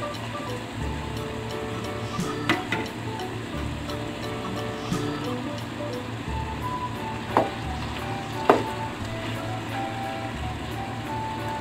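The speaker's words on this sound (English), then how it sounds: "Hayaan lang natin ito guys na maluto yung ating egg" An egg frying in a pan for a Filipino beef loaf with ampalaya, with a steady hiss and crackle running throughout, a few sharper pops and utensil clicks near the end, and no talking.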